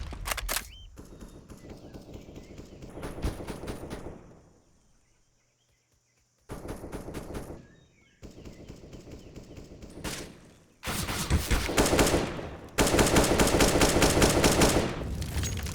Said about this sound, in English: Spray from Oculus is in, is going to do some damage on Savannah